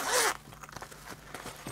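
A zipper closes the mesh pocket on the back of a backpack in one quick, loud, close rasp that fades into quieter handling noise.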